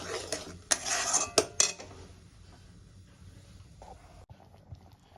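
Spice masala for dhaba-style palak paneer is stirred and fried in a pan, opening with several sharp metallic scrapes and clinks of a utensil against the pan, then settling into a low, quiet simmer.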